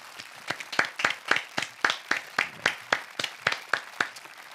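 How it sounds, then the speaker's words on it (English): Rhythmic clapping at a university business competition grand final, each clap distinct and close, falling in a fairly steady beat with a light backdrop of further hands. "I believe that they all deserve a huge round of applause from us."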